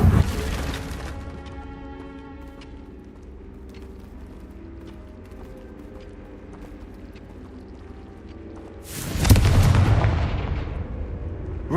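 Confringo fire spells from Hogwarts Legacy land as booming blasts, a loud burst at the start and another near the end, with a low rumbling, ringing game ambience between them and no voices.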